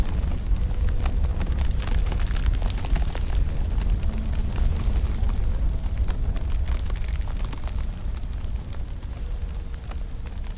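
A loud, close fire roars and crackles steadily, with dense popping and hissing and no voices over it.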